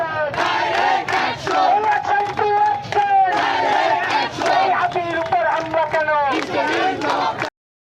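A large crowd of protesters blocking the Barishal–Khulna highway at Jhalkathi College More shouts slogans in loud, rhythmic unison, with the chant rising and falling continuously and close by.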